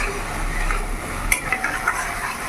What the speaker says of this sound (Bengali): এবার ভালো করে নাড়াচাড়া দিয়ে আমি ভালো করে কষিয়ে নেব।